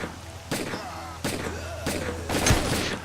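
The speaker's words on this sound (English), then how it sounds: "Now let's try our new pistol," Pistol gunshots in S.T.A.L.K.E.R.: Call of Pripyat, four sharp shots spaced under a second apart, each with a short echoing tail, fairly close with a low background hum.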